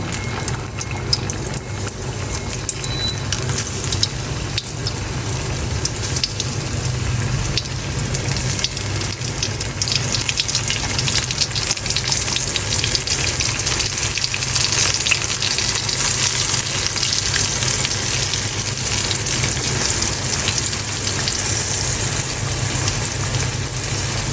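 Continuous loud sizzling and crackling of tapioca-floured chicken pieces frying in hot oil, steady and close for the whole stretch with no talking.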